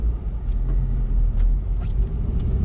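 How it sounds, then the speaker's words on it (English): Manual transmission car slowing under braking with the clutch held in while shifting into first gear, a steady low interior engine and road rumble running throughout with faint light clicks from the controls, no talk. "gonna clutch in and brake, put to first gear."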